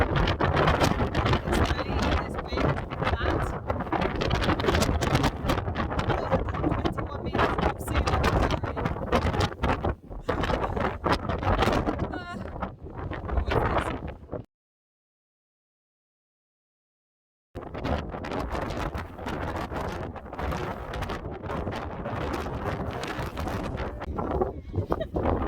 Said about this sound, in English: I hate the wind.